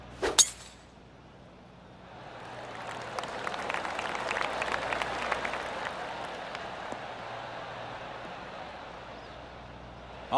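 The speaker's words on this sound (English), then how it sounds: "I can hear the golf claps around the course." Polite spectators clap around a golf course at the Genesis Invitational at Riviera Country Club in PGA TOUR 2K25, a soft, distant smattering of applause that rises, lingers and fades, following a sharp click at the start.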